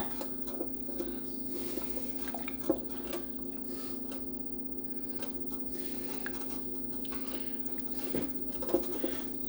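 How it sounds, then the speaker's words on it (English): Semi-sweet chocolate morsels melting in a pot are stirred slowly over medium-low heat, producing faint, soft scraping and occasional light clicks of a utensil against metal over a steady low hum. "I'm just going to stir this over medium to medium-low heat till all of our chips are nicely melted"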